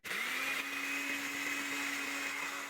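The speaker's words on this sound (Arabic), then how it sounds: "هاخد المطحنه بتاعتي كده، اطحن فيها حبوب الشوفان دي، احولها لقوام زي الدقيق" An electric grinder whirs oats into flour, a loud steady motor whine starting abruptly and holding at constant pitch for a few seconds, with a gritty rattle of grains underneath.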